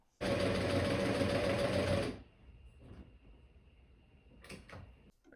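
A sewing machine stitches white thread around embroidered patches on a flannel shirt, running loud and steady for about two seconds before stopping, followed by quiet handling noises and a couple of faint clicks.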